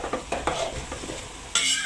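Onions for devil curry are stirred in a pan over a high flame, with several close scraping strokes over a soft sizzle, then a sudden louder burst of frying near the end. No voices.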